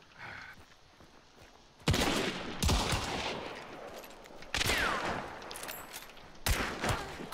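Gunshots in the shooter game Hunt Showdown 2: four loud, heavy single shots a second or two apart, each ringing out with a long echoing tail over quiet background ambience.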